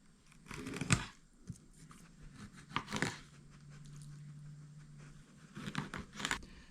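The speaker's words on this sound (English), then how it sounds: "you'll hear those bones crunch." Small bones of a buffalo carp crunching and crackling as a fillet knife cuts through them, giving close, sharp bursts at irregular intervals with a faint steady hum between them.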